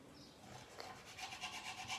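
A knife slices lemons in one hand, producing a faint, close rasping rub with a quickening series of short sawing strokes toward the end.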